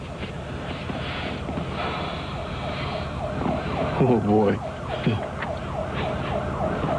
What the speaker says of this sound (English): need an ambulance in this traffic.